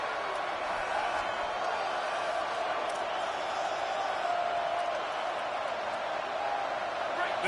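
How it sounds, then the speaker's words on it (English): A steady roar from the Alabama football stadium crowd on third down at Saban Field, a dense, continuous wash of distant massed voices with no clear breaks. "The Tide crowd rolling noise down onto Saban Field on third down."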